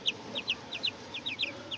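Young chicks, hens and a cockerel cluck in a close run of short, bright, repeated peeps and calls at a quick, uneven rhythm, with no talking.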